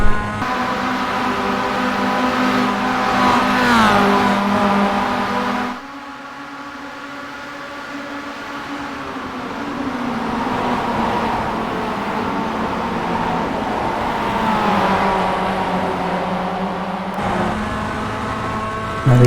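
A pack of Mazda MX-5 race cars roars around Bathurst in iRacing, engines droning and rising through the gears with harmonic whine, one car's note shifting and dipping briefly before climbing again; loud and continuous, no talking.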